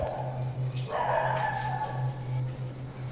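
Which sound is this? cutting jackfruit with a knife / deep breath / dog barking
dog barking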